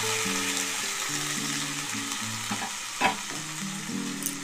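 Grated carrot paste frying in ghee over a high flame, a close, constant sizzle with a spoon scraping and stirring, and a sharper clatter midway.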